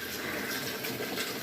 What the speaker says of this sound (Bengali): আমি পায়ে করে ধুয়ে নিচ্ছি